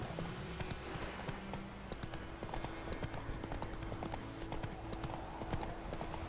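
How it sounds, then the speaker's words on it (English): Horse hooves cantering in The Witcher 3: Wild Hunt, a steady rapid clip-clop rhythm of many close, moderately loud hoofbeats continuing throughout with faint game ambience beneath. "Press left shift to move in a canter."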